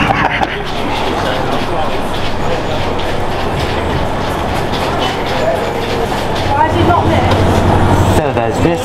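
A train rumbles and clatters steadily close by at a London railway station, wheels clacking over rails with a faint squeal near the end.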